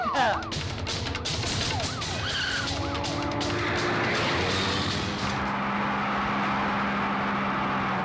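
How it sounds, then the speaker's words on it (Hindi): Police car siren wailing loud and close during a car chase, its rising and falling tones layered over roaring engine noise and tyre skids, continuous throughout. "मेरी बात सुनो इंद्रा, देखो पुलिस पीछे खड़ी है।"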